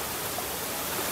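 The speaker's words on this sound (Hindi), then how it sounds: "अभी तो मस्त है यहाँ पे झरना टाइप का।" A small waterfall by a river pours in a steady, dense rush of water that stays even and loud throughout, with no voices over it.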